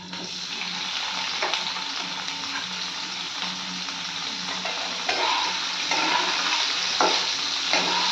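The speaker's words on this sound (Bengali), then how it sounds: "তেলটা গরম হয়ে গেছে, এবার আমি পনিরগুলো একটা একটা করে দিয়ে দেব" Paneer pieces fry in hot mustard oil, a loud steady close sizzle with intermittent bubbling bursts and light scraping as pieces are added and moved.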